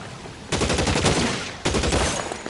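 Gunfire in an L.A. Noire shootout: two loud bursts of rapid automatic fire, each opening sharply and rattling on for about a second, close and dominating.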